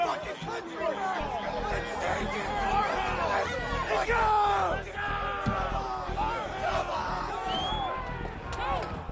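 A large crowd breaching the US Capitol, with many people yelling, whooping and shouting over a dense babble of voices, loud and continuous throughout.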